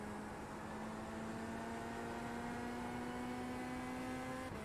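A Chevrolet Corvette Z06 GT3.R racing car in the iRacing video game at Barcelona Historic, with a constant engine drone whose pitch rises slowly and evenly as it accelerates.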